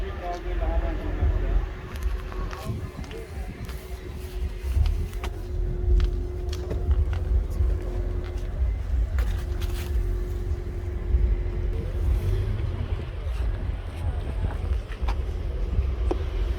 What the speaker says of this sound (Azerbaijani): Bu da maşının qabaq səsi.